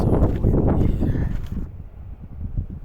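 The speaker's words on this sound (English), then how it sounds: "But wow, it's so windy here." Strong wind buffets the microphone high in the Himalayas on the Annapurna Circuit, loud rumbling gusts that ease to a lower, rougher rush partway through.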